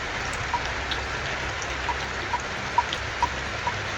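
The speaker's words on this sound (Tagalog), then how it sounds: "Ngayon, lumakas yung ulan." Heavy rain falls as a steady, dense hiss, with occasional sharper drip taps standing out close by.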